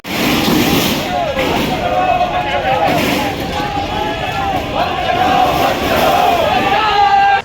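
A large, agitated crowd at a protest in Durg chants a religious slogan in loud, continuous unison, the voices surging and overlapping with some traffic rumble underneath for the whole stretch.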